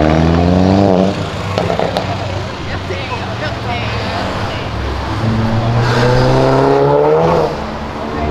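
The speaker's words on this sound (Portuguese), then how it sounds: "O carro se aprecia o ronco aqui." A performance car's engine roars and revs hard, its pitch rising and falling in repeated pulls, loud and close, with people talking over it.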